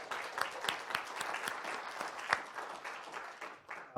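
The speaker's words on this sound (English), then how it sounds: "please give me a warm round of applause to everyone who helps make this happen" Applause from an audience at a rural entrepreneurship event, honoring the event helpers: a moderate, steady patter of many hands with a few sharper claps standing out, fading slightly near the end.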